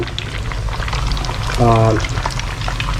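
Pork dropped into very hot oil, a loud, close, steady bubbling and crackling of deep frying, with a short burst of speech partway through.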